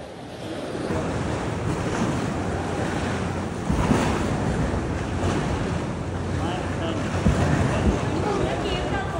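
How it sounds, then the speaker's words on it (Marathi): Sea waves surging and breaking on a beach in Thailand, a steady broadband wash of surf with gusty wind noise on the microphone and two slightly louder swells, no talking. "इथे लाटा वाढत चालल्या आहेत"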